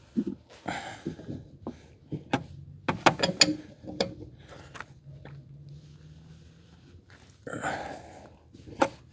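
A bolt is turned by hand using a Hanabi LJ2022 impact wrench and drill-driver kit, giving irregular ratcheting clicks and small metallic rattles, with a denser burst of clicking near the end.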